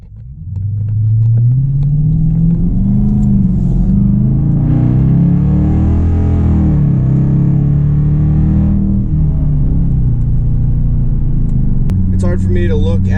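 A modded Dodge Challenger makes a 0 to 60 pull, its engine a loud, deep droning rumble that climbs and shifts in pitch through the run, heard from inside the car.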